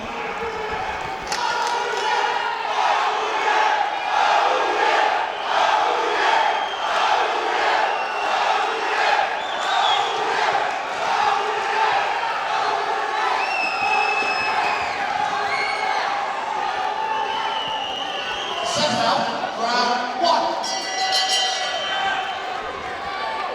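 A large crowd at York Hall cheers and shouts during a cruiserweight boxing fight. The roar is loud and steady, with whoops and a sharp clang near the end.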